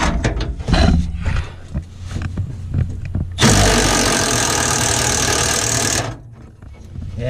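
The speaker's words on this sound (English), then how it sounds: "I'm just gonna try to take the impact now so I can run those off" Impact wrench running bolts off a 1988 Ford F150, a loud, close, steady buzzing whir held for nearly three seconds after a stretch of clanking tool handling.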